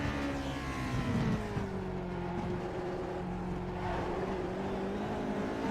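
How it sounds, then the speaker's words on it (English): Race car engine droning steadily at speed along a bumpy straight, its pitch wavering up and down as the rear wheels skip over the bumps, a sustained close mechanical whine with no voices. "you can already hear the engine"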